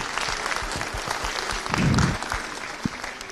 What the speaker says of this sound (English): can I get a round of applause, please, for Allianz as the sponsors of this competition